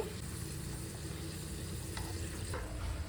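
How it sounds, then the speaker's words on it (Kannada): Raisins and cashews frying together in ghee for sweet pongal, giving a steady soft sizzle with light stirring scrapes throughout, fairly close and without any talk. "ದ್ರಾಕ್ಷಿ ಗೋಡಂಬಿ ಎರಡೂ ಒಂದೇ ಹದದಲ್ಲಿ ಚೆನ್ನಾಗಿ ತುಪ್ಪದಲ್ಲಿ ಫ್ರೈ ಆಗಿದೆ"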